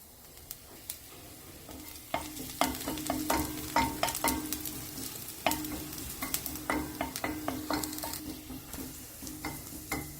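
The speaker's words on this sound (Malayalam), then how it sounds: "എണ്ണ ചൂടാവുമ്പോൾ ഇതിലേക്ക് 1 ടീസ്പൂൺ വെളുത്തുള്ളി ചെറുതായി മുറിച്ച് ചേർത്ത് വഴറ്റാം" A teaspoon of finely chopped garlic sautés in two teaspoons of hot olive oil, a soft continuous sizzle punctuated by many quick, rhythmic stirring scrapes against the pan, with no voices.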